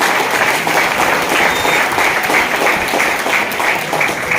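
Applause from an audience at a company planner event in Nallasopara, a steady dense wash of many hands clapping that continues evenly and fairly loud throughout, with no break.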